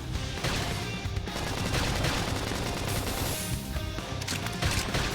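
Dense, continuous gunfire bursts from combat in the video game Xenoblade Chronicles X, rapid repeated shots layered with crashes and game effects, loud and sustained throughout.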